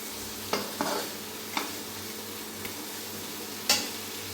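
Masala with ground cumin paste frying in oil and being stirred, with a low steady sizzle broken by a few sharp scraping stirs of the spoon against the pan.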